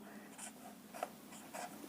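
Chalk or marker writes a shortcut formula on a classroom board in a maths lesson, with a few faint, short scratchy strokes in quick succession against quiet room tone.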